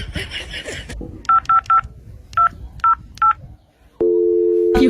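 Mobile phone keypad tones as a call is placed: six short evenly spaced beeps after a burst of talk, a pause, then a steady ringing tone that begins near the end.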